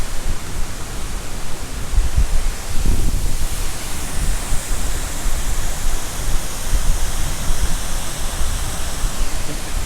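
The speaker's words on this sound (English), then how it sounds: "There's so much wind and mist coming off from the waterfall" A waterfall in Pisgah National Forest roars with a dense, constant rush of water. Gusts of wind and mist batter the microphone, sounding loud and close.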